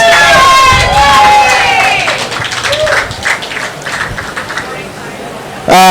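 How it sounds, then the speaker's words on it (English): Crowd at a public meeting in a cantina applauds and cheers, loud close clapping mixed with whoops and overlapping voices, tapering off before a speaker's voice cuts in at the end. "Everyone give her a round of applause."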